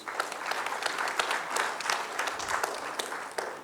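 An Engineering Day audience at a conference on emerging technologies breaks into applause, moderate and fairly close, with many overlapping claps and some sharper individual ones standing out.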